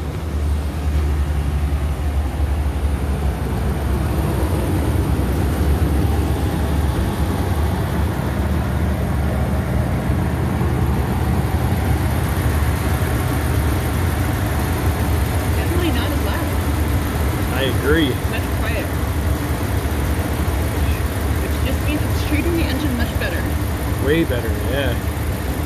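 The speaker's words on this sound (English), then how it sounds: "On the count of three, our first startup after AMSOIL." A 2017 Ram 1500 pickup with a 5.7L engine, freshly flushed and oil-changed, cranks over and settles into a steady, loud idle that runs throughout, with people talking over it near the end.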